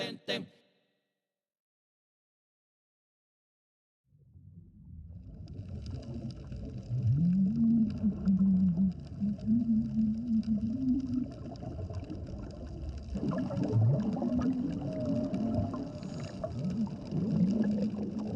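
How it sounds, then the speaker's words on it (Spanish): Whales sing underwater in the sea off Gorgona, long sliding moans and wavering tones that swell after a silent start, rising and falling over a murky underwater rumble. "Mateo canta en coro con las ballenas"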